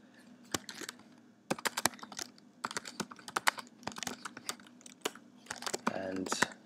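Computer keyboard typing in short bursts of crisp clicks separated by pauses, close and fairly quiet, with a faster flurry of keystrokes near the end.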